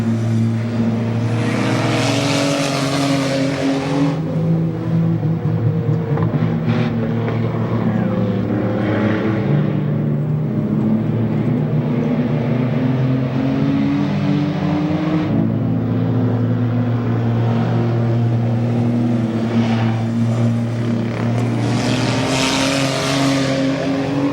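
Race cars in an enduro at Goods Raceway roar past in repeated swelling and fading waves, engines loud and droning as the pack laps close by, with a commentator's voice faintly underneath.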